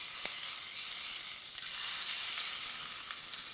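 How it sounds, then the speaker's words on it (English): Oil and butter sizzle together in a pan, a steady close hiss of gentle frying that holds evenly throughout with faint crackles and no voices. "we're going to heat up a little splash of oil, probably just under a tablespoon. And we're going to heat that up with some butter"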